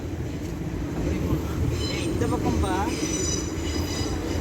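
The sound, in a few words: metro train at Bercy station, Paris line 6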